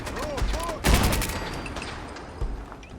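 Rifle fire aimed at a turret in the Fallout 4 video game, with several sharp shots in quick bursts and a heavier blast among other game effects, fairly close and moderately loud.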